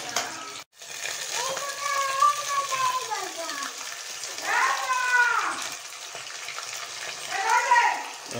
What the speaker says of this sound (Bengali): আদা রসুন দেওয়ার পর ভালো করে এটাকে এখনই কষে নেবে